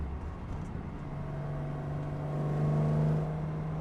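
Datsun ZG car driving on a road, its engine holding a steady drone that swells and rises in pitch as it revs, heard close and alone with no talk.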